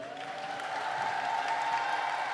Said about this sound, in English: I'm going to look for three rounds of applause.